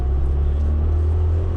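A car fitted with a cheap eBay performance pod air filter pulls away, giving a loud, steady low engine rumble close by with no clear rise in revs.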